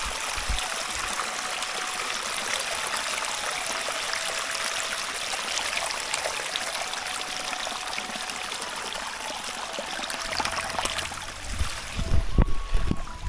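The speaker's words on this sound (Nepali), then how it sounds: "यहाँदेखि चाहिँ पानी तल पठाइदिएको हेर गाइस कस्तो रमाइलो तरिकाले गएर आएको छ" Water flowing down a narrow channel outdoors, a loud, steady gurgling rush that carries on for the whole stretch, ending with a few sharp knocks and splashes close by.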